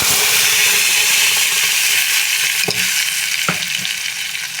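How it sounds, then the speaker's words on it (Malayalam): Hot oil sizzles steadily around a ground tomato paste as it fries for rasam, with a few sharp clinks of a spoon against the pan. "ഇപ്പം നമുക്കിതിലേക്ക് നമ്മൾ അരച്ച് വെച്ച തക്കാളിക്കാക്കൂട്ടില്ലേ അത് ചേർത്ത് കൊടുക്കാം"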